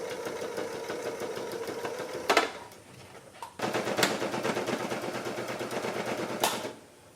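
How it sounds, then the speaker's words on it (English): A household sewing machine stitches a strap in fast, steady mechanical rattling runs, stopping briefly twice before resuming, then winding down at the end as the thread breaks. "This is my wife's sewing machine."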